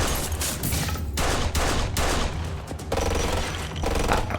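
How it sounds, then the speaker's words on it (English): Rapid machine gun fire in a crime drama TV episode, repeated loud bursts with broadband cracks and low booms running continuously through a chaotic shootout. "Again with the machine gun"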